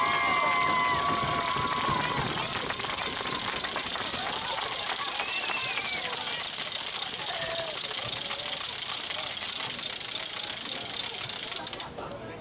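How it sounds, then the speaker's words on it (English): A high-school basketball crowd at a home game between Desert Ridge and Chandler claps and cheers loudly and continuously for both teams, a dense steady roar that fades slightly at the end. "Give a big round of applause for both teams for that game play just now."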